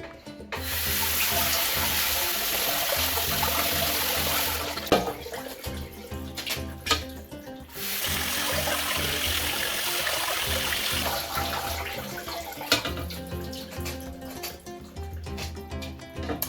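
Sea moss rinsed under a running tap, a loud steady splash of water broken by short pauses and clunks as the moss is handled in a bowl or sink.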